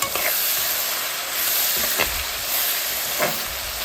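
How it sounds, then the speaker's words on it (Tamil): Onions, fenugreek, green chillies and curry leaves sautéing in a pan for mutton curry, a steady close sizzle with occasional scrapes and stirs of a spoon, no talking. "வெந்தயம், வெங்காயம், பச்சை மிளகாய், கருவேப்பிலை எல்லாம் போட்டு வதக்கி கொண்டிருக்கிறேன்"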